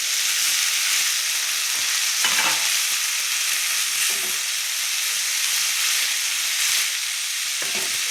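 Safflower greens frying in a hot pan give a loud, steady sizzle that runs throughout, broken by a few soft stirring scrapes.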